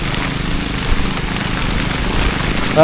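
Steady rain pours down in a dense, even hiss, close and fairly loud, with no voices.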